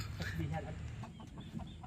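A chicken clucks a few times nearby in a brief burst, with other faint background sounds around it.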